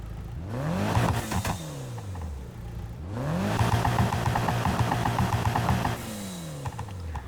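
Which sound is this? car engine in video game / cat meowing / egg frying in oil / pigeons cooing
car engine in video game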